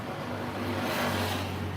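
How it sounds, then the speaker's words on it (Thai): A Land Rover Series One engine runs in a workshop, a steady mid-pitched hum with a slight rise in revs near the middle, heard alone and fairly close. "เครื่องครับ"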